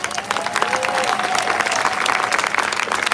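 A big round of applause from a live audience for Team Savannah city employees, dense and sustained clapping with some crowd noise and a faint tonal hum running underneath.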